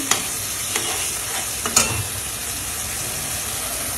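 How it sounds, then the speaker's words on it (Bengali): Bottle gourd curry with shrimp is stirred in a hot pan, a steady sizzle running throughout with a few sharp utensil scrapes and knocks early on, close and fairly loud with no talking. "লাউ রান্না করতেছি আমি একটু চিংড়ি মাছ দিয়ে ভালো করে নেড়ে দিচ্ছি"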